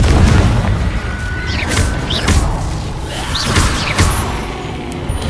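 Explosive Bombarda and Confringo spell blasts in the Hogwarts Legacy video game, a string of loud booming bursts and crashes repeating every second or so over a constant rumbling battle backdrop.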